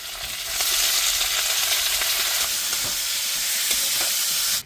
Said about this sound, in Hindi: कढ़ाई में डालते हैं अब बढ़िया से चिकन को फ्राई करके लेते हैं